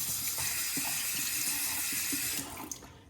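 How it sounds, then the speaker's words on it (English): Hot water gushes from a sink tap onto a Cygnus safety razor during a wet shave, a steady close hiss and splash that cuts off near the end, followed by a small clink. "get some hot water on the Cygnus"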